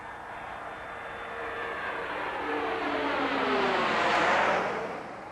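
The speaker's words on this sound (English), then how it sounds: "Columbia is rolling out on runway 22 at Edwards Air Force Base" Space Shuttle Columbia rolls out on runway 22 at Edwards Air Force Base after a 14-day mission, a broad rushing roar of air and engine noise that swells steadily, peaks near the end, then begins to ease.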